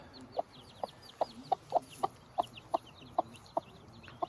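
A mother hen out for the first time with her chicks, giving a steady series of about eleven short, soft clucks at an even rhythm, close by, with faint peeping and chatter in the background.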